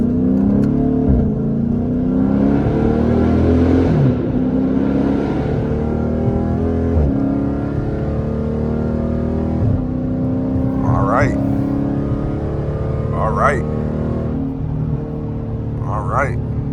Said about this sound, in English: y'all hear that downshift?